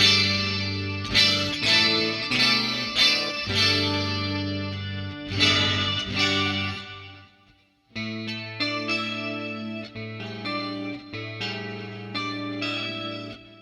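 An electric guitar runs through a Line 6 Helix pitch wham effect. Several phrases of plucked notes and chords ring out alone with a shimmery, pitch-shifted, effected tone, and there is a short pause midway.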